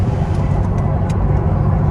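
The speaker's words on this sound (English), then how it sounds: "My car kinda loud." Loud, steady road rumble fills a car cabin while driving, a dense low droning roar with faint higher ticks over it and no pauses.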